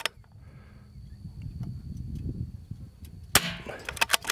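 Rifle fired at a steel target while shooting from a tripod-supported kneeling position outdoors: a sharp loud crack near the end, followed by a few quick impact clanks, after a stretch of low wind rumble.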